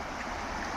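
A shallow stream flows outdoors under an overcast sky, giving a brief, steady, close rushing wash of water with no voices.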